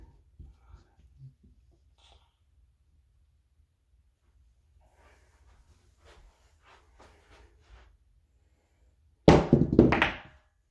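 Dice shot across a craps table land in a sudden loud clattering burst near the end, tumbling and knocking for about a second after a stretch of quiet with faint murmurs.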